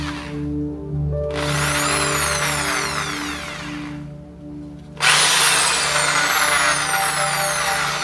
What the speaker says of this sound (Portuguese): Então na menor velocidade, então temos a parafusadeira.